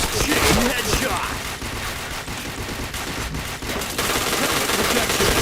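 Rapid gunfire bursts from the online shooter Point Blank, a dense, continuous crackle of shots running through the whole stretch with a few louder volleys, close and loud, with faint voices mixed underneath.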